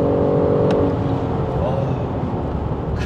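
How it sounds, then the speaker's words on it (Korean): A BMW 550e revs hard toward its roughly 7000 rpm redline, a dense, continuous engine roar with a rising whine early on, heard from inside the car. "지금처럼 거의 7000 레드존까지 칩니다"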